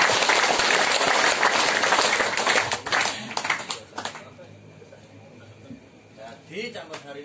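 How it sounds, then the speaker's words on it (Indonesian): A crowd claps loudly at an evening ceremony of the PSHT martial arts brotherhood, a thick burst for about three seconds that thins into scattered claps under talk. "Tepuk tangan."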